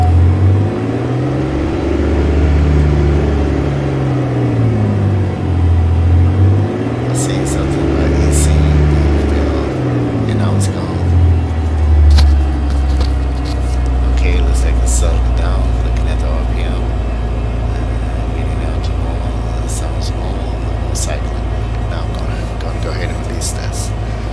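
Diamond DA50RG aircraft engine run-up in the X-Plane 11 flight simulator, a steady droning engine rumble whose pitch sweeps up and down through the cycle, then settles into a constant loud hum, with brief clicks throughout.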